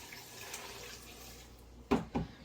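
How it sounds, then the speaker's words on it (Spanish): Chicken broth poured into a clay pot where butter is melting in a home kitchen, heard as a faint liquid trickle under room noise, then two short louder splashes near the end. "Y aquí ya puse caldito de mi pollo, que también lo voy a estar vaciando aquí."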